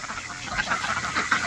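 Baby ducks in a backyard poultry pen: faint, soft peeping quacks repeating in a quick, uneven stream against a quiet, breathy background.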